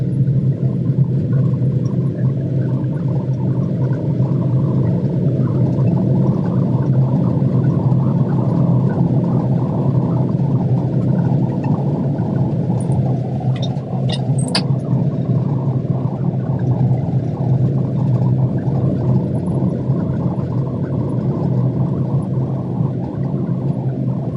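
A Honda Acty kei truck climbs a hill in a high gear, its small engine droning steadily and loud throughout with a constant low hum and road rumble, with a few faint brief squeaks partway through.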